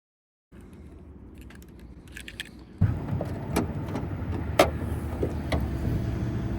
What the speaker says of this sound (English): Here's the key for you guys.